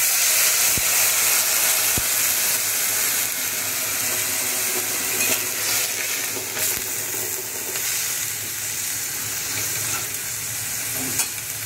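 Water poured into fried spices in a pan sets off a loud, continuous sizzle and hiss with faint stirring clatter, steady throughout with no voices.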